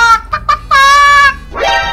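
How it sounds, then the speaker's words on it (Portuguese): A chicken in the GTA 5 video game clucks loudly and close, giving a few short clucks followed by a longer drawn-out squawk, with a low steady game hum underneath. "Pronto, achei você, galinha."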